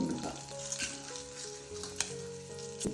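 Urad dal and ginger sizzling in hot oil in a pan for a beetroot and sesame chutney, a steady close crackle with occasional sharper pops and stirring clinks, no talking.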